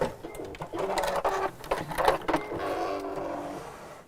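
A sewing machine stitches fabric in bursts of rapid mechanical whirring, stopping and restarting several times close by.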